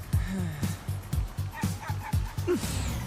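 A dog gives a rapid series of yips and bow-wow barks mixed with a whimper, loud and close, with a car faintly in the background.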